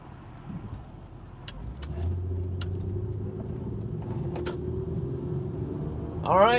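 A car drives along and slows to make a left-hand turn, its engine and road noise rising into a steady low hum, a few sharp clicks sounding, with someone talking over it near the end.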